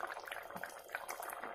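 Vegetable curry of drumstick pods (sahajan) simmering in a covered pan, a soft steady bubbling and sizzling with faint liquid pops, quiet and continuous with no talk.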